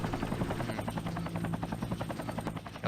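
Helicopters in the MechWarrior 3 video game, a steady rapid rotor chop with a droning hum, continuous and fairly quiet throughout.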